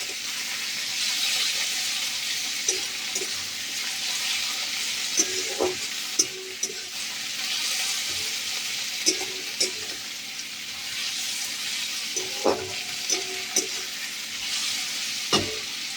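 Chopped tomato and green chili fry in a pan with a steady bright sizzle, while a spoon stirs them and scrapes the pan in repeated scraping clicks at intervals.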